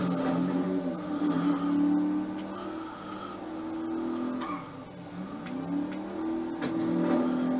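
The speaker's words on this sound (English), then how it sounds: "It's just like music to your ears, listening to a big American V8. Revving on the highway or revving in the racetrack." Big American V8 of a Vapid Bullet in Grand Theft Auto revving repeatedly, the engine note rising and falling in loud waves with no talk over it.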